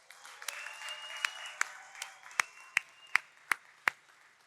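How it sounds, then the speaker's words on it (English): Sparse, scattered hand claps ring out at an outdoor Chanukah festival, about a dozen distinct sharp claps spaced irregularly over a quiet background with a faint tone, rather than full applause. "Please give them a round of applause."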